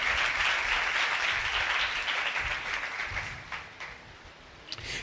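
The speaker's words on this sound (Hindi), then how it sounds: "उनके लिए ज़ोरदार तालियां बजाएं।" Loud applause from a congregation during a sermon, strong at first and then thinning out into scattered, fading claps toward the end.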